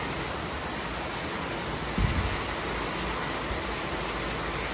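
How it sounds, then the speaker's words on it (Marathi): Heavy rain pouring down outdoors, a dense constant hiss of close, loud rainfall with a brief low thump partway through and no talking. "धो हो, धो पाऊस पडतोय आमच्याकडे"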